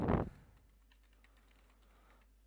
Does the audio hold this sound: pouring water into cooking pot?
no